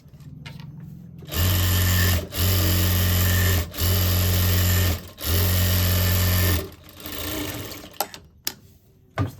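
Sewing machine running in four loud, steady bursts with short pauses between them while stitching along the edge of a blouse lining, followed by quieter fabric handling and a few soft clicks.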